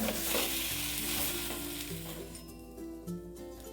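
Banana flower bhakri cooking on a hot pan, giving a steady soft sizzle with faint crackles and a few light clinks, close and even throughout, with no voices.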